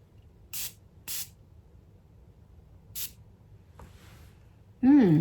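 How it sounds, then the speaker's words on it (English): A few short, sharp hissing sprays from a makeup setting mist bottle, three quick fine-mist bursts spaced apart, close to the microphone, followed by a brief murmur. "I'm gonna sample it and see how the spray is."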